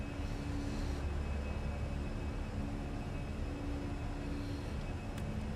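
An A320 airliner in Microsoft Flight Simulator climbs just after takeoff, its engines giving a steady, moderate roar with a faint tonal whine that holds unchanged throughout, with no speech.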